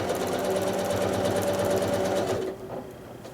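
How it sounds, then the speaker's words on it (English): A sewing machine stitching a black-on-black quilt block down into a corner runs loud and close in a fast, even hum for over two seconds, then stops, leaving only faint handling noise. "I'm going to go on ahead and stitch down into that corner"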